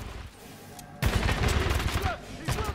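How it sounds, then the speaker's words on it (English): Rapid bursts of gunfire from a video game shotgun in Titanfall 2 break in suddenly after a quiet start and keep going loud and dense, with further shots near the end and a voice talking under the firing. "The one problem about this shotgun, my god, does it take a while to reload"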